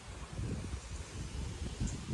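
Gusty wind ahead of a storm rumbles and buffets the microphone with low, uneven surges in a Konkan village courtyard, fairly faint and steady with no voices.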